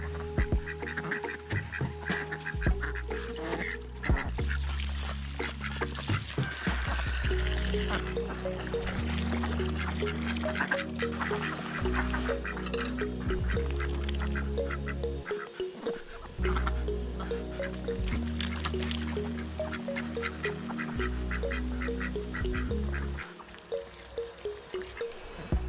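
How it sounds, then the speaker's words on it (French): Ducks quack repeatedly on a farm, their calls coming in irregular bursts over nearly half a minute, close and fairly loud, with intermittent splashing and dripping sounds mixed in. "on a des canards heureux, c'est tout ce qui compte."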